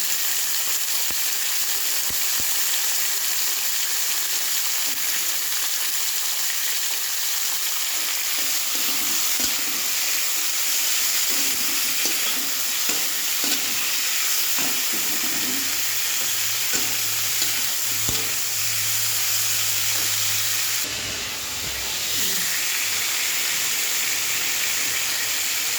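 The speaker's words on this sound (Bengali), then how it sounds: "পেঁয়াজ উচ্ছে আলু দিয়ে ভাজা হচ্ছে" Sliced onion, bitter gourd and potato fry in a pan, giving a loud, continuous sizzle with occasional stirring clicks and scrapes throughout.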